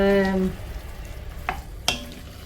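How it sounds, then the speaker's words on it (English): A spoon stirring soup ingredients in a pot of apple and butternut, a couple of brief scraping knocks and clinks up close, after a fading tonal hum at the start. "just going to give this a stir now"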